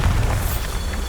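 A Bombarda spell explosion in Hogwarts Legacy, one short booming burst with a loud low-end rumble that fades within about a second.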